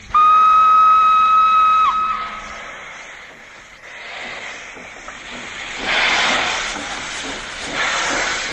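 Train whistle of a small amusement park ride train at Efteling, a loud steady tonal whistle for about two seconds, then a fading hiss of steam with a second softer hissing swell later.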